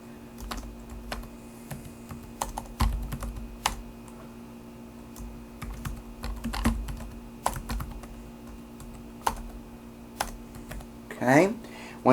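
Keys clack on a computer keyboard as a file name is typed, scattered soft taps at close range in a quiet room, with a brief louder sound near the end.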